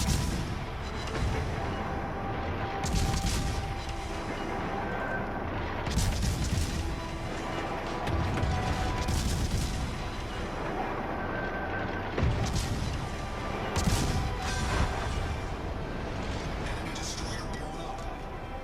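Repeated heavy naval gun salvos in World of Warships, booming blasts roughly every three seconds with crashing impacts and a constant rumbling battle bed, while someone talks over the action.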